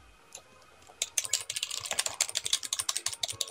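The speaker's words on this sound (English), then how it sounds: "that's me mashing the arrow keys" Rapid keys mashed on a computer keyboard while playing a game, a dense run of sharp clicks starting after a quiet second and continuing in quick irregular bursts, close and alone.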